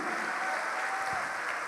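Church congregation clapping together in a steady, dense wash of applause that holds at an even level from start to finish.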